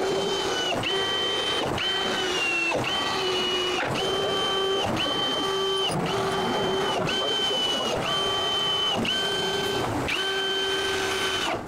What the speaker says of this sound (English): There are quite a few screws to screw.